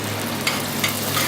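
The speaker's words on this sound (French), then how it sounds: "on fait revenir globalement 30 secondes ce concentré de tomate" Tomato concentrate fries in a pan, giving a steady soft sizzle with a couple of faint stirring scrapes, close and alone.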